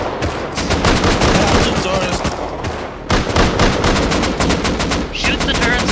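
Dense, continuous gunfire rattles at turrets in the video game Rust, with rapid overlapping shots from several weapons filling the whole stretch and brief lulls between bursts.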